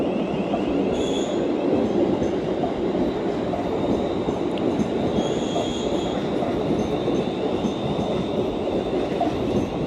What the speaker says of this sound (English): Only a small train and going quite slow.